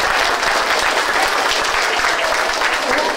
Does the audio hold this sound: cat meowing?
no